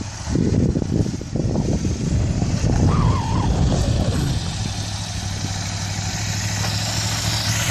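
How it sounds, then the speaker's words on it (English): A Ducati Scrambler motorcycle engine rises in pitch as throttle is rolled on through a slow turn in a beginner riding lesson. The engine then eases back to a steady idle, nearby and moderately loud. "Bar's turned, and she's going to give it some throttle as she turns."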